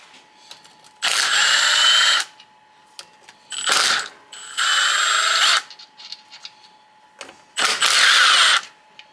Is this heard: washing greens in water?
no